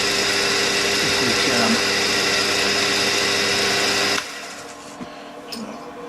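A steady, high-pitched mechanical whine of a 3.9 mm drill boring through metal on a diesel engine crankshaft part runs for about four seconds, then cuts off, leaving a quieter room with a few small clicks.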